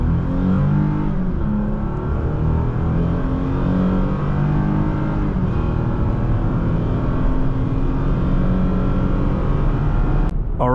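A 2023 Toyota Tacoma TRD Off Road pickup pulls away hard from a full stop. Its engine drones loud and steady throughout and builds under sustained acceleration, with a brief sharp noise near the end.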